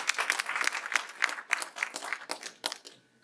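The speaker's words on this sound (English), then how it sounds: "Let us give her a hand of applause." Audience applause at an office inauguration event, a steady crowd clapping with irregular louder peaks, fading out toward the end.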